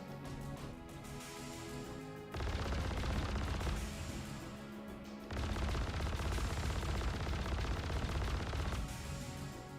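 Rapid automatic gunfire in the video game Frontier Fighters, dense sustained bursts that cut in hard, pause briefly around the two-second mark and again near five seconds, then resume loud and close with heavy low-end thump.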